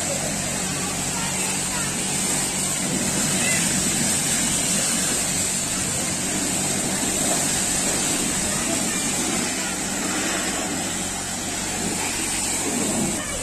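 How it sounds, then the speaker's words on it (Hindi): An automatic car wash sprays water over a car in a steady, hissing rush with a broad wash of splashing and a low mechanical hum underneath, continuous and fairly close, while someone talks over it. "गाड़ी धुलती जा रही है और जरा सा भी पानी नहीं कहीं रुक रहा"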